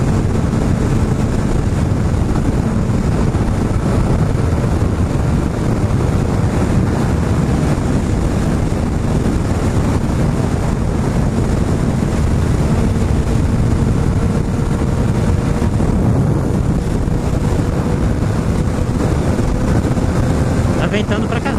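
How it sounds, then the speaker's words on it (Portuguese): Strong wind roars steadily into the microphone while riding a Suzuki GSR750 motorcycle, a dense low rumble with a constant buffeting hiss and no pauses. "Ventando pra caramba."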